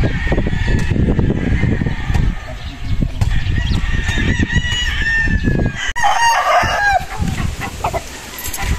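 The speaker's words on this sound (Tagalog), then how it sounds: "dito po makikita nyo yung manukan ni Boss Sunny Lagoon sa San Lorenzo, San Pablo, Laguna" Roosters crowing at a gamefowl farm in San Pablo, Laguna, several loud overlapping crows with clucking and goose-like honks, close and busy throughout.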